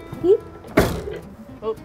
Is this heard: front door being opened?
yes